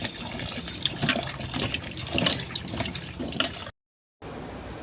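Pieces of ash gourd are washed in water, with close splashing, sloshing and a running-water wash that stops briefly near the end and then starts again.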